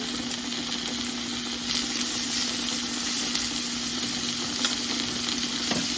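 Salt-and-pepper steak cooking in a hot pot makes a loud, continuous sizzle and fry, steady throughout with a faint underlying hum and no voices.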